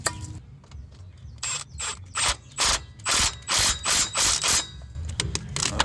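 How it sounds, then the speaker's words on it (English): A hand ratchet tightens the battery terminal connection on a Dodge Ram 1500 with a no-crank fault, giving close, loud bursts of rapid clicking in about eight repeated strokes over steady low background noise. "I'll grab a ratchet and make sure it's nice and snug"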